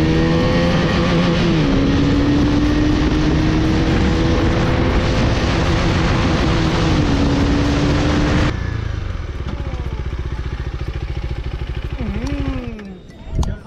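A motorcycle is ridden along a road, its engine droning steadily and loud with audible gear shifts, then the pitch changes and revs rise and fall toward the end.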